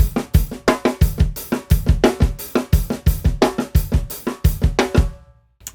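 Snare drum single strokes played at an even, uncontrolled loudness, a fast steady stream of sharp, close hits for about five seconds that stops and leaves brief quiet.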